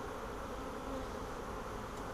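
A swarm of bees inside a hive box gives off a dense, steady buzzing hum, close and continuous with no pauses.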